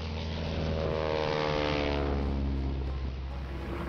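A T6 propeller aircraft drones loudly overhead, its steady engine note swelling slightly and holding throughout as it passes, with no talking.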